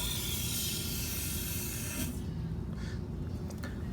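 A steady aerosol spray of chassis paint hisses for about two seconds under a 1974 Chevrolet C10 pickup, then cuts off, leaving faint sputters and drips as the can keeps spraying.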